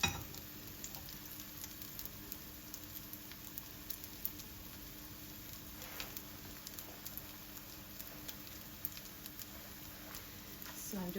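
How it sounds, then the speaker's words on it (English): A veggie sandwich patty of black beans and barley fries in oil in a pan that is not non-stick, giving a steady, fairly quiet sizzle with light crackle throughout. "So I'm just going to fry."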